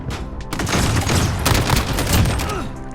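Rapid bursts of SCAR rifle fire in the Modern Warfare shooter, loud and dense, with overlapping shots and booms filling the whole stretch.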